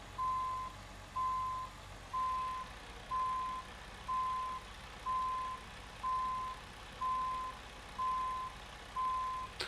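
A truck backing a trailer in American Truck Simulator sounds steady reversing beeps, about ten evenly spaced tones over a low idling engine rumble, clear and moderately loud.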